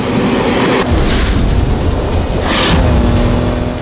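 A 2017 Ford Raptor pickup runs flat out on a dirt track at high speed, its engine a loud, continuous roar that surges and swells with gear changes near the redline, alongside tire and wind noise.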